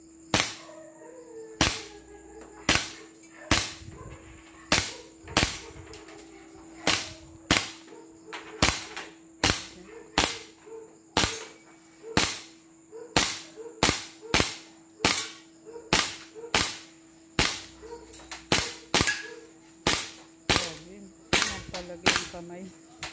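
A Desert Eagle Gold Edition pistol fires a long series of sharp gunshots at a loose, irregular pace, some two dozen reports in all, each followed by a brief ring, with a steady tone humming underneath.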